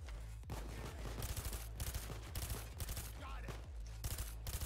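Rapid, dense gunfire rattles nonstop during a Payday 2 firefight against snipers, loud, close bursts overlapping in a continuous barrage.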